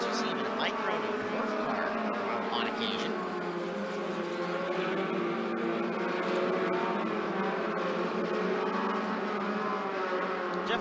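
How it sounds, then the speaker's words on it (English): Northwest Focus Midget race cars roar around a track during hot laps and heats, a continuous droning engine noise at a distance under a steady commentator voice. "Jeff Westergaard, the 78R, you see going down the back straightaway."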